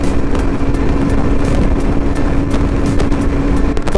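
Motorcycle riding at close to 100 km/h, recorded on a GoPro Hero 11 mic: a steady, loud roar of engine and wind rushing past, continuous throughout with no talking.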